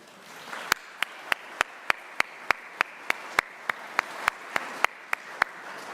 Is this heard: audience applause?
yes